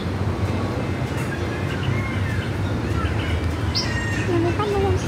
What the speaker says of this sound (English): Lumipad na yung ibon.